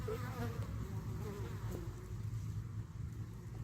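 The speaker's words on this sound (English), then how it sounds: "Bees have been busy all day. In and out, in and out." Bees fly in and out near a tree at a cabin, giving a continuous close, low droning buzz that fills the whole stretch steadily, with no voices.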